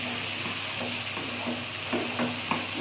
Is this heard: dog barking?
no